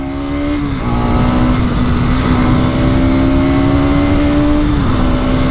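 A Bajaj Pulsar NS 200 motorcycle engine, with 60,000 km on it, holds a loud, steady high drone as the throttle opens, its pitch dipping briefly near the start and again near the end, with no voices.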